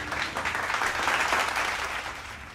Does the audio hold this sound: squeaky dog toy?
no